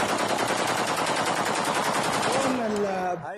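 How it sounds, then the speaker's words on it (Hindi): Rebels at the Syrian presidential palace firing rifles in celebration, a dense continuous burst of rapid automatic gunfire, loud and close, ending abruptly. "अपनी राइफलों से गोलियां दागकर विद्रोही जश्न मनाते नजर आ रहे हैं"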